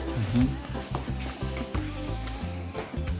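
A sugar mixture is stirred briskly in a hot pan, with close sizzling and repeated scraping strokes over a low rumble, with no voices.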